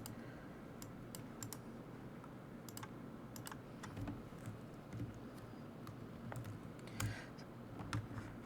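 Typing on a Windows computer keyboard, quick irregular clicks of keys with a few louder taps, soft and close in a quiet room.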